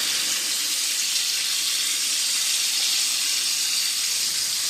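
Chicken pieces pressed flat in a hot pan with whole garlic cloves dropped in sizzle in a steady, loud, close hiss that runs unbroken without pause.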